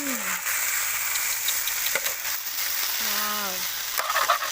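Eels frying with holy basil in a pan give a steady, close sizzle, with a few sharp stirring knocks and clatters over the crackle.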